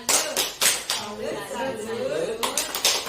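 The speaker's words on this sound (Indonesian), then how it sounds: "Tepuk salut." A group of women claps a rhythmic salute clap in a community savings training session, several sharp unison bursts separated by a stretch of talk, close and fairly loud.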